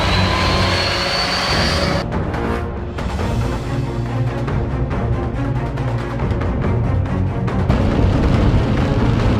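A motorcycle roars as it accelerates, a loud continuous engine drone with a steady pulsing rhythm that swells toward the end, close and heavy.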